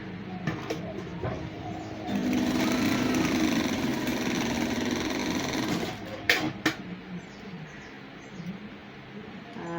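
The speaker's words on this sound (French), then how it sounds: "un peu comme je suis en train de faire à la machine en ce moment" Domestic sewing machine stitching a fabric headband: a few short taps, then a steady whirring run of several seconds, followed by brief clicks as it stops.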